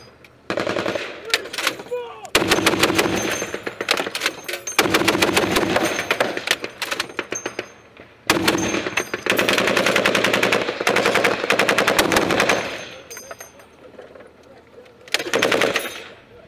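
An M2 .50 caliber heavy machine gun fires a full belt in a firefight: long, loud, rapid bursts of heavy thudding shots with brief pauses between strings and a final short burst.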